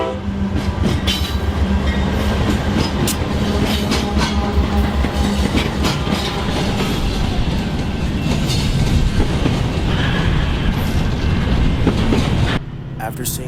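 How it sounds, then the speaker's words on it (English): A train rolls steadily past near Tower 26, loud and close, with continuous rumble and rhythmic wheel clatter for most of the stretch before the sound cuts away abruptly near the end. "go down to Tower 26 to capture this train"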